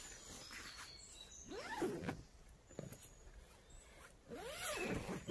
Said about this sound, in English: And you fully unzip it all the way to the end.